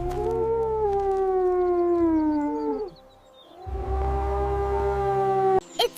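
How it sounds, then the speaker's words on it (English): A wolf gives two long, sustained howls, the first slowly falling in pitch before breaking off, the second steady and loud after a brief pause, with a short sharp noise at the very end. "It's a wolf."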